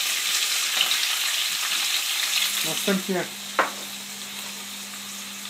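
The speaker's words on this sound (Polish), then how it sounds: "Smażymy naszą paprykę około 5 minut." Bell peppers sizzle steadily in a hot frying pan, with a few sharp stirring clatters near the middle.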